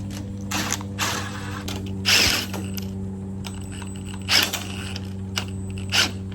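A garage door opener chain is tightened, with several short bursts of ratcheting, metallic mechanism clicks separated by pauses over a steady low hum.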